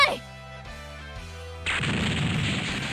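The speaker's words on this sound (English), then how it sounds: "Kirie's standard final scene depicting a festival of explosions" Explosions erupt in the final scene of the visual novel game Amazing Grace: a brief tonal, voice-like passage gives way abruptly to a loud, sustained roaring blast of noise that fills the rest of the moment.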